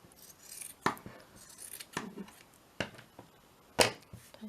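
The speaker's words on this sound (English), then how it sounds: "See if my scissors are going to be sharp enough." Scissors cutting macrame string in a few separate sharp snips spread out over several seconds, close and crisp against a quiet room, with no one speaking.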